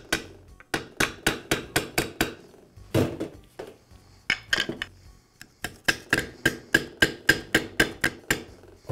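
Repeated metal-on-metal hammer taps drive a pivot pin into the housing of a Milwaukee reciprocating saw, with a socket set over the pin; sharp close strikes come in steady runs with short pauses between bursts.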